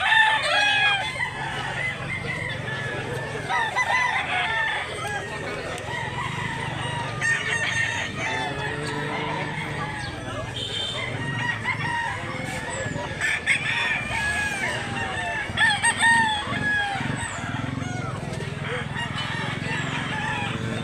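Fighting roosters crowing repeatedly at a busy rural market in Mantalungon, Barili, Cebu, with clucking between calls, a background crowd murmur and someone talking throughout.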